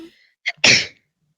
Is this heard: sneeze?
yes